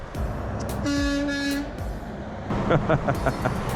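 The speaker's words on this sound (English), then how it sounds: "I got a honk." A single sustained electronic horn honk from an electric scooter, steady and fairly loud, lasting under a second amid road and wind noise, followed by clattering rolling sounds.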